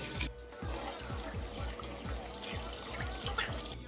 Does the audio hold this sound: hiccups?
no